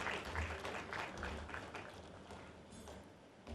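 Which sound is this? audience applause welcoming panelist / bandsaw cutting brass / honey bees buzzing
audience applause welcoming panelist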